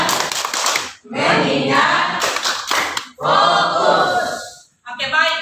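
A classroom group performs the Indonesian focus clap, hands striking together in quick rhythmic bursts broken by short pauses, with children's voices chanting along between the rounds.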